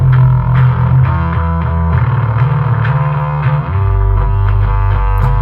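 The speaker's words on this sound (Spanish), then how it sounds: "ahora entra un bajo con un montón de distorsión" Heavily distorted fuzz bass comes into a produced music track, a loud, thick, saturated low line with shifting notes riding over a booming 808 beat, no voices present.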